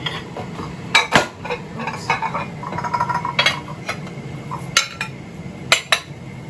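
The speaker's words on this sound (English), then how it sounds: "So now I need to get a big bowl out to mix this all together" In a home kitchen, a big mixing bowl is pulled out, with clinks and knocks of dishes and cutlery scattered over a low steady background hum, a few louder clatters standing out.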